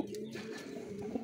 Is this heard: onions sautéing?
no